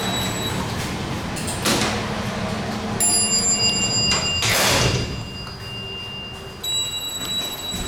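A bell chimes at a Dover hydraulic elevator in a downtown office building, ringing out clearly with lingering tones over rumbling machinery and sliding-door noise.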